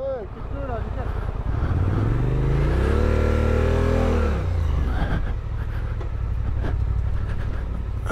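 A Suzuki 800DE motorcycle on a trail-riding event climbs a slope, its engine revving loud and close, pitch rising and holding, then easing off, with rough, steady rumble throughout.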